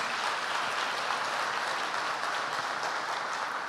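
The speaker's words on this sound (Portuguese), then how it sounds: "Pode dar aplauso ao Senhor." A church congregation at an evening communion service applauding, steady broadband clapping from many hands sustained evenly throughout at moderate volume, with no voices standing out.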